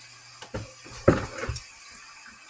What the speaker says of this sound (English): Except it's still dripping.